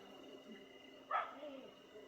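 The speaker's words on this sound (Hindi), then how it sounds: "नीचे कोई कुत्ता भौंक रहा है" A dog barks somewhere down below in a jungle in hilly country. One short, faint, distant bark rises briefly over a quiet outdoor hush.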